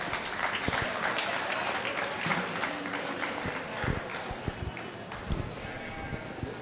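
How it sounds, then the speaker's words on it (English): Audience applause at an indoor sheep show as a class of breeding ewes leaves the arena, steady clapping of a crowd with background murmur and scattered knocks. "Let's give them a nice round of applause."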